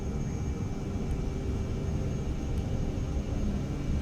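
A Cirrus Vision Jet G2 in Microsoft Flight Simulator 2024 rumbles steadily with a low engine roar and thin whine during takeoff, continuous and moderately loud with no talk.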